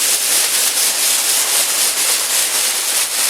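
Heat gun shrinking shrink wrap over a gift basket, a steady loud breathy hiss of blowing air that holds without a break, close up and with no talk.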